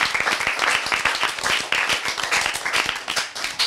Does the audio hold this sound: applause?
yes